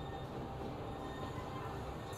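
A train braking on a curvy stretch of track in the video game Transport Fever 2, heard as a steady, low rolling rumble with a faint high squeal running throughout.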